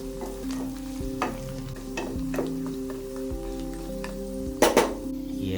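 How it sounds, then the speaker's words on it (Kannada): A ladle stirs mutton pepper fry with coriander in a pan, giving steady scraping and soft sizzling over a constant low hum, with a couple of sharper clanks of metal against the pan near the end. "ಕೊತ್ತಂಬರಿ ಹಾಕಿ ಹಾಗೇ ಒಂದು ಸೌಟ್ ತಿರುಗಿಸಿ ಹೀಗೆ"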